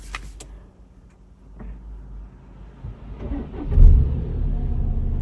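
A 2016 VW Passat engine with about 347,000 km cranks and catches, rising into a steady low rumble that keeps running, with a few clicks before it starts.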